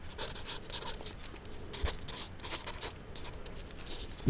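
Quick pencil strokes scratch across paper while sketching flame shapes in a concept drawing, a steady run of soft, close scratchy swishes with brief pauses between bursts and no talk.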